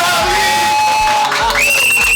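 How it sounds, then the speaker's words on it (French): A studio audience cheers and whoops for a French rap guest, loud and continuous, with yells and a crowd roar filling the whole stretch close to the microphone. "merci de faire un tonnerre d'applaudissements à notre gars sûr, notre ancien sûr"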